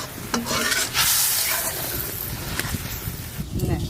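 Fish fries in a pan with a bright, steady sizzle, broken by a few sharp stirring scrapes and clinks over a low background hum.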